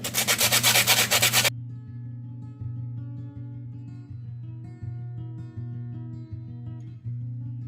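Dry rough husk on a citronella stalk is rubbed briskly by hand in a short burst of scratchy strokes, close up, followed by quieter rhythmic rubbing with a low hum underneath.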